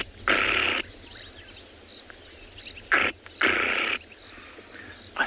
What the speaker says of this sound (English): a small brown bird called a flappet-lark that was making that noise